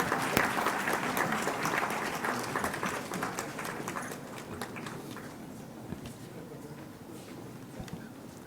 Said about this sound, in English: They also deserve a huge round of applause.